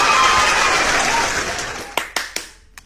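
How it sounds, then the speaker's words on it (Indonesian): Applause rolls on and gradually fades, then a single person claps a few sharp, close hand claps, spaced out, followed by a couple of quieter final claps before silence. "Saya mau tepuk tangan dulu."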